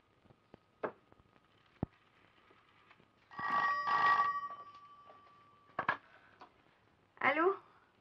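Old-fashioned telephone bell ringing in a film scene, a few separated rings of moderate loudness with quiet gaps and small thuds between them.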